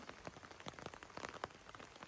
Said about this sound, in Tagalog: kasi umuulan ngayon at 2 araw pa lang umulan dito